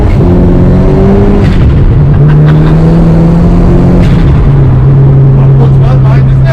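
A Saab-engined Vauxhall Corsa B accelerates hard on a damp road, its engine note rising loud and close from inside the car, with steady droning tones and road noise filling the cabin.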